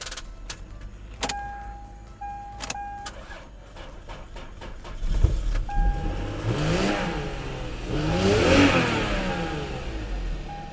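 A Lexus IS300 with a 2JZ/1JZ engine, unstarted for about two months, cranks with clicks and a whirr, then catches and revs up loudly, settling into a steady idle nearby.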